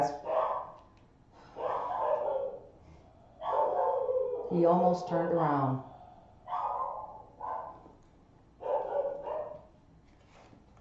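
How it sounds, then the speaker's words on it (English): Dogs bark in a series of short, repeated bursts at moderate volume, with a few yips and whines mixed in, while a person talks briefly between the barks. "Fun having dogs."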